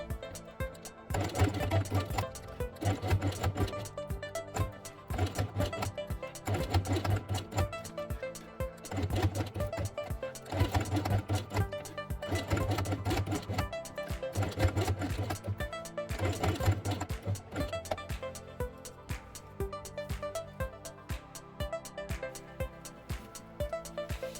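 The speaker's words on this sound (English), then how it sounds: "sew it with red thread" A sewing machine stitches felt with red thread for a quiet-book page, running in regular, evenly spaced bursts of rapid mechanical clatter over a long stretch.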